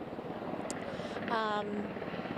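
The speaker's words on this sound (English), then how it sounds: "This main helicopter now coming in." A presidential helicopter flies in to land, a steady low rotor drone with a brief tonal whine rising midway, heard at moderate distance under faint background talk.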